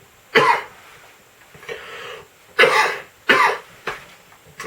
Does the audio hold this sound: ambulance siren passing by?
no